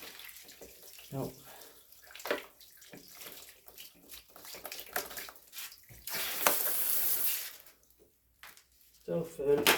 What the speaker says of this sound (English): trying to turn the water down as well.